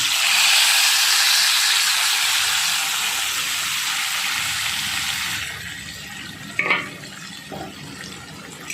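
Ground taro leaf paste goes into hot mustard oil tempered with a pinch of nigella seeds. A loud, bright hiss and sizzle fills the first half, then settles into a softer crackle broken by a couple of short clatters.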